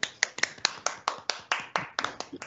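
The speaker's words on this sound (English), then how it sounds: "So maybe the two of us can give you a round of applause" Two people clapping at the close of an online webinar Q&A session, with about a dozen close, crisp, slightly uneven claps in a steady rhythm.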